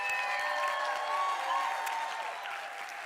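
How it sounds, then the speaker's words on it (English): Audience applause at an annual benefit show for a backstage arts foundation, a steady wash of clapping from a crowd that holds for a few seconds and fades slightly toward the end, with faint tonal sounds overlapping. "let's just have a round of applause for Kari, too."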